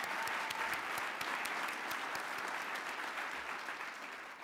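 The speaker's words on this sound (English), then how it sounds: "Let's give them another round of applause." Steady applause from an audience at a 2016 neighborhood awards ceremony, even and continuous clapping with crisp individual claps standing out, fading slightly toward the end.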